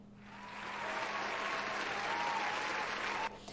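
Applause sound effect triggered from a stream deck: a steady wash of clapping from a crowd, loud and even for about three seconds before cutting off abruptly.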